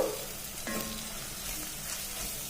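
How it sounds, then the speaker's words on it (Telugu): Onions, green chillies and ginger garlic paste fry in a pan, a soft, even sizzle with a brief stirring scrape near the start. "ఇలాగే ఫ్రై చేసుకోవాలన్నమాట."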